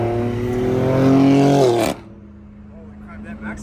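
A straight-piped BMW M car exhaust roars loudly and close, climbing in pitch as it revs, then cuts off abruptly to a low idle rumble.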